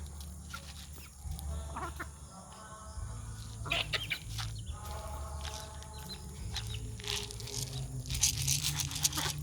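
Chickens, including chicks and three roosters, cluck and murmur nearby in a farmyard, with scattered short calls over a low background hum and occasional rustling.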